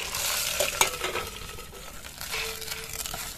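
Curry leaf tempering poured into tomato chutney, a soft crackling sizzle with a few clinks of a spoon against the pot, close but fairly quiet, no one talking.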